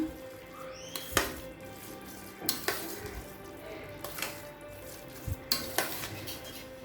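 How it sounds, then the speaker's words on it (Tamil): Curd is being mixed into cooked rice in a pot, giving repeated clinks and scrapes of a spoon against the vessel in irregular bursts over soft background noise. "இப்போ நல்லா மிக்ஸ் பண்ணிக்கலாம்"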